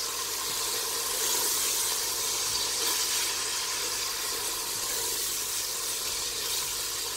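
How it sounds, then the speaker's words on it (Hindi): Cumin and garam masala powder fry in a pan of hot oil for matar pulao, giving a steady, continuous sizzling hiss that holds evenly for several seconds with no one talking. "अब इन चीज़ों को मैं हल्का सा फ्राई करूंगी।"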